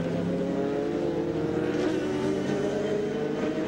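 BMW race car engine droning steadily at Laguna Seca during a 2001 American Le Mans Series race, a continuous loud roar with harmonic whine throughout, no voices.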